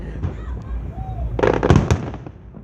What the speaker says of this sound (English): What do you think of these fireworks?